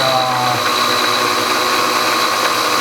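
A milling machine running at 1200 RPM cuts a metal rod. The whirring and cutting noise is loud, continuous and steady, with tonal machine hum throughout.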